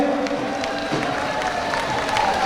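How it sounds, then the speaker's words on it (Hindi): A crowd at an election rally for an independent candidate breaks into sustained applause and cheering, a dense continuous wash of clapping filling the short stretch. "एक बार जोरदार तालियां भाई की सपोर्ट में है नवीन भाई की"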